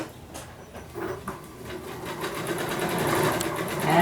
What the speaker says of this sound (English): I'm not moving my sewing machine at this point. Just stitching down.